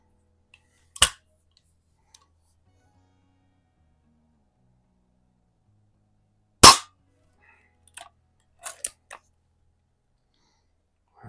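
Two sharp, loud shots ring out from a 125-year-old Eisenwerke Gem No. 13 rifle fired at cans outdoors, well separated by quiet, followed by several small metallic clicks and taps from handling the old action.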